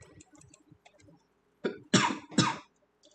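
A man coughs a few times, three short rough bursts close to the microphone after some faint clicking in the background.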